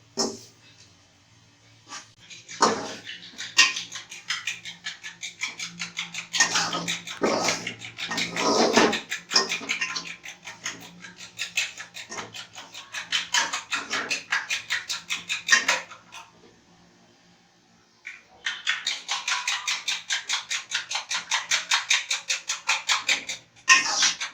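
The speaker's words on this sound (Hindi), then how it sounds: "चमचा में तो आपको चलाते रहना है" Spoon scraping and stirring semolina as it roasts in a pan for suji halwa, a steady run of quick metallic scrapes and taps, close and fairly loud, with a brief pause before the stirring resumes.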